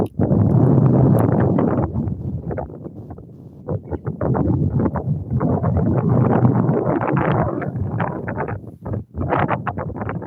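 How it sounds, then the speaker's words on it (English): Heavy wind buffets the microphone on a street in Gaborone in loud, rumbling gusts that roar on and off for the whole stretch. "This is blowing. Yeah, blowing too much. It's blowing too much."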